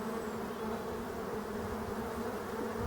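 Honeybees flying in an orientation flight in front of their hive in Brittany, a continuous close buzzing drone of many wings, steady and alone.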